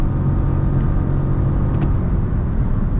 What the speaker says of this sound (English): you get on the accelerator like this